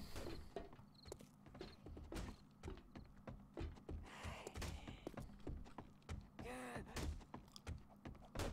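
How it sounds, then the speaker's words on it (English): A zombie in the game 7 Days to Die pounds on a wall, giving repeated dull thuds and knocks at a steady, uneven pace, faint and somewhat distant, mixed with small clanks in quiet surroundings. "Looks like she's banging on the wall over there."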